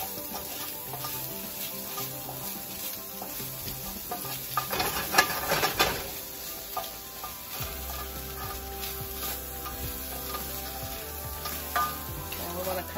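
Shrimp stir-frying in sesame oil for egg rolls, a steady close sizzle with scraping and stirring from a utensil that grows busier midway, continuous with no talk.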